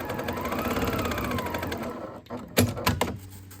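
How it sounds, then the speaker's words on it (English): A sewing machine runs in a steady rapid stitching burst while back stitching a fabric bowl cozy, then stops with a few sharp clunks and knocks near the end. "I'm just gonna make sure that I back stitch at the top and the bottom."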